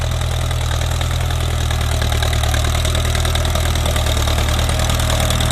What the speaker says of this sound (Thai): รอบเครื่องนี่ไม่ใช่รอบเครื่องที่สูงครับ ใช้รอบเครื่องที่ต่ำครับ